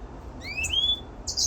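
Canary and goldfinch hybrid mules in an aviary give a brief, thin, rising chirp and then a sharp second call, over a faint background hiss.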